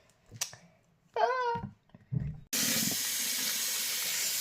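Tap water gushes steadily as a broadband rush for hand washing, starting after a few brief child-like vocal sounds and continuing loudly to the end.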